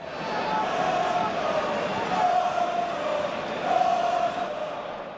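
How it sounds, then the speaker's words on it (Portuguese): Valencia football fans in a stadium crowd chant in repeated rising shouts, a dense roar of many voices with a distinct chanted pattern recurring about every one and a half seconds. "é possível ouvir gritos de "Mono, Mono!" vindos da torcida do Valência"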